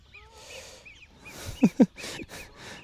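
A goose honks twice in quick succession at close range, loud against a quiet outdoor background with faint bird calls.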